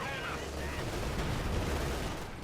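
.50 caliber machine gun fire in Company of Heroes 2, a steady rapid rattle of shots mixed with distant artillery rumble, continuous and moderately loud beneath faint background voices.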